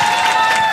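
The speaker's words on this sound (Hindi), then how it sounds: "जोर से ताली बजाओ" Audience at a stand-up comedy show clapping loudly, a brief dense burst of applause from a close crowd.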